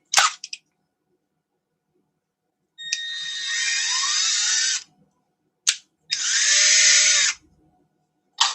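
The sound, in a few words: drilling into aluminum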